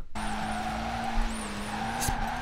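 A Vauxhall Corsa drifting in Forza Horizon 4: a steady engine drone holds under continuous tyre squeal, with skid chirps rising and falling, loud and close throughout.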